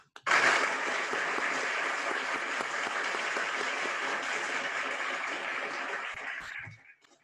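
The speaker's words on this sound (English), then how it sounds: "Let's give a round of applause for Christina." Applause at a band banquet, a full room clapping in one continuous burst that starts abruptly, holds evenly for about six seconds, then fades out.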